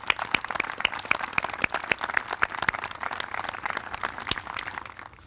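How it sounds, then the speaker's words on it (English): Applause at a school graduation ceremony for the class of 2020 students and board members, a steady patter of many hands clapping at moderate distance, fading toward the end. "please join me in applauding all of these wonderful class of 2020 students and board members"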